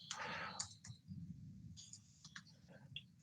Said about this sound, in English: I'm just typing this HTML.